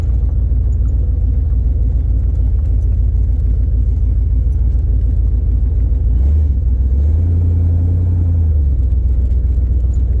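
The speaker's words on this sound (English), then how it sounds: "As soon as I give it any throttle, we'll be able to tell." A Chevrolet Camaro with a FiTech fuel injection setup and a throttle stumble fault, its engine rumbling loud and close from the cabin, with a low steady drone rising in pitch as throttle is applied toward the end, no talk.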